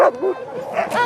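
Several sled dogs in a kennel yelping and whining excitedly in a brief, loud burst of overlapping high-pitched cries, with faint voices underneath.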